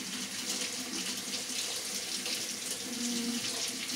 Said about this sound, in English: I'm going to just rub and wash this bell pepper.